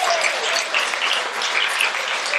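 An audience at a mayor's investiture ceremony claps steadily and densely throughout, a sustained round of applause with no voices standing out.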